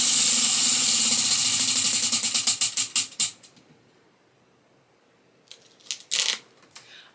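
A prize wheel spins with a rapid ratcheting clatter of its pointer ticking against pegs, slowing to spaced clicks and stopping, followed by a few faint handling noises.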